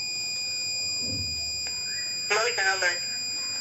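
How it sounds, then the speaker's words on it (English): An Arduino security alarm project's buzzer, triggered by a PIR motion sensor and light sensor, gives off a sustained high-pitched electronic tone, while someone talks briefly near the end. "See the red light indicate, buzzer indicate."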